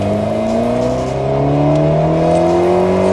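Alpine A110 S at full throttle on a race track, its engine note climbing steadily and loudly close by, a continuous rising roar with no gear break.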